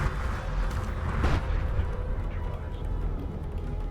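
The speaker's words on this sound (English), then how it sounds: "the railguns are gonna kill the turrets here" Heavy booming fire rumbles continuously as railguns pound turrets in Homeworld space combat, one sharper blast standing out amid the dense low roar.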